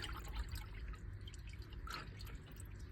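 Engine oil drips out of a Toyota Celica TA22 during an oil change, faint irregular drips and a light trickle over a quiet background.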